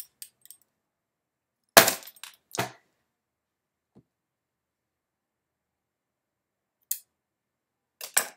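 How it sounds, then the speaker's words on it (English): A set of keys jingling in short metallic bursts, two clear clinking rattles early on, then a few brief faint clicks and jangles later, separated by silence. "Here are my keys."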